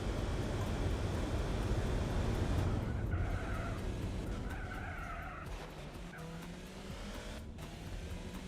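Race cars in Gran Turismo 4 roar through a lap as tires skid and squeal, with a dense engine drone, squealing streaks midway and a sharp knock-like hit near the end.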